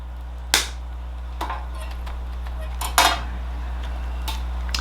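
Shears snip through a willow bonsai trunk in a few sharp metallic clicks spaced apart over a steady low hum, close and fairly crisp.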